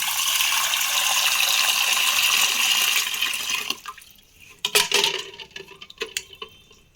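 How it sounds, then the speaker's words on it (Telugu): Loud running water rushes for several seconds, then stops, followed by clunks and knocks of hot boiled eggs dropped into a pan of cold water. "ఇప్పుడు ఈ కోడిగుడ్లు చల్లటి నీళ్ళలో వేసుకోవాలి"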